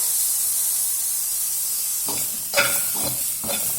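Onions, garlic and curry leaves fry in a hot pan, giving a steady hiss that gets louder and more crackly as the ingredients are stirred and tossed near the end.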